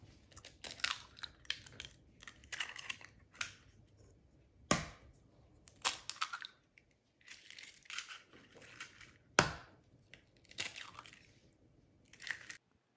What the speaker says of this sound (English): Now we're going to crack 3 eggs.